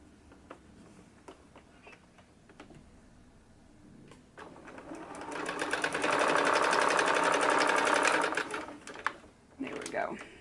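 A sewing machine stitches a book page holder, starting with scattered clicks and handling noises, then running in a fast, steady mechanical whir for a few seconds before stopping, with a person talking nearby.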